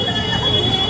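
A train pulls into Thane railway station at night, its wheels squealing steadily in a loud, continuous screech over the general rumble of the platform.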